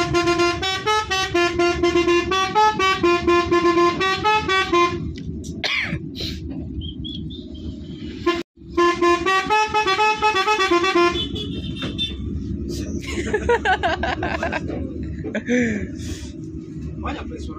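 A telolet bus horn plays a bright, musical multi-note melody in repeated bursts, loud and close, with short pauses between phrases and people talking nearby during the quieter stretches.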